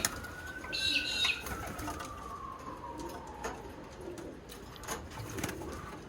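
A kit of Birmingham Roller pigeon hens flaps and flutters, wingbeats loudest early on, with soft coos and intermittent clatter under a quiet background.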